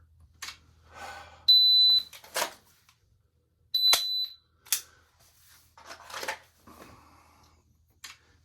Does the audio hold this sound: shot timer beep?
yes